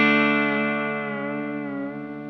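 An electric guitar with a light distortion effect sustains a single bent note from a guitar solo, ringing alone and slowly decaying with rich harmonics.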